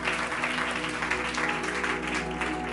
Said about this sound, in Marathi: जोरदार टाळ्या प्रभूच्या गौरवासाठी